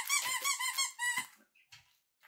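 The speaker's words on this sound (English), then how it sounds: "Crinkle and ball squeaker." A dog toy's ball squeaker squeaks in several quick, high, close bursts, followed by a few softer crinkling squeaks, with no talking.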